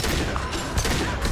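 A short, loud, dense burst of gunfire from the video game Mass Effect 2, with continuous rapid shots filling the moment up close.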